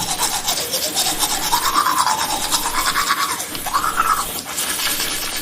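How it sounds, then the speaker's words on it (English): Someone brushes their teeth with a toothbrush, making a steady, close, scratchy back-and-forth scrubbing that rises and falls in pitch as the strokes change. No voices are heard over it. "Ma, are you brushing your teeth?"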